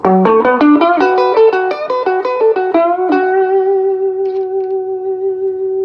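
Electric guitar with a humbucker pickup, a homebrew Les Paul, plays a quick run of plucked notes, then rings out on a sustained chord with a warm, reverberant tone through a 1975 Fender Super Reverb tube amp.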